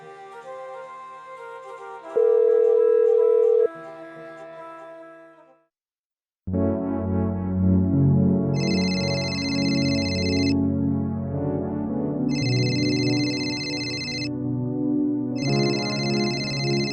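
A telephone rings in repeated electronic bursts with short gaps between them, layered over loud background music in a Gujarati film scene.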